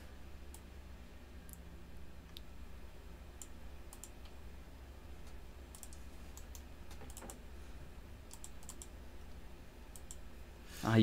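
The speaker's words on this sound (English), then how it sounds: "You could hear my mouse click." Soft, scattered computer mouse clicks tap away at close range against a low hum, irregular and sparse, with no talking.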